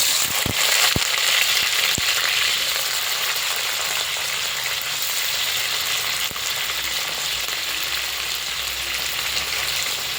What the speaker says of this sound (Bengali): আমি এখন এখানে দিয়ে দিচ্ছি কেটে রাখা ধুন্দুলগুলো এগুলো হালকা করে ভেজে নেব